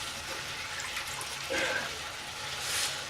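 Small splash of water poured from a shot glass into a pan of green beans, a brief faint trickle midway over a low background hiss, with no talk.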